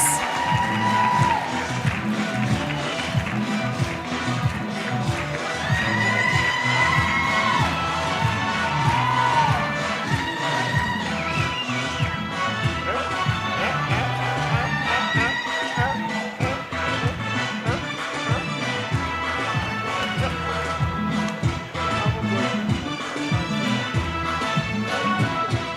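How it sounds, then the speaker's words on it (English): An audience at a Kenya Red Cross volunteer awards ceremony applauds and cheers steadily in a dense, sustained wash of clapping and shouts, with music and voices mixed in. "give a round of applause to our SG, Dr. Ahmed Idris."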